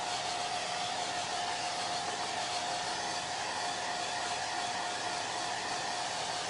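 A hair dryer blows steadily on a chalk transfer, a loud continuous close whoosh with a constant motor whine and no talk throughout.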